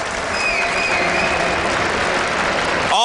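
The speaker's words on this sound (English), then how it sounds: "Give this guy another big round of applause" A large audience at a StarCraft 2 tournament quarterfinal applauds loudly and steadily, a dense wash of clapping that holds for a few seconds before breaking off.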